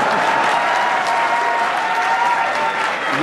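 Steady, dense applause from an audience at a Hindi poetry recital, loud and continuous clapping filling the room without a break, with no voice rising above it.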